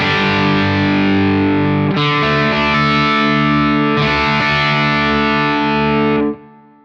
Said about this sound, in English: it feels like a power amp is being pushed